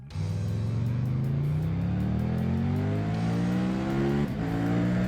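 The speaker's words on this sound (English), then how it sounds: "Our next bike uses a triple-cylinder engine that screams like a banshee." A loud Triumph Tiger 900 Rally Pro triple-cylinder motorcycle engine revs continuously, its pitch climbing steadily through the gears, with a brief dip near the end before rising again.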